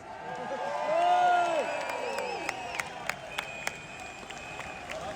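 A large outdoor crowd at a London freedom of speech march cheers and applauds, swelling to a loud roar near the start and then settling into a sustained murmur with scattered whistles and sharp shouts.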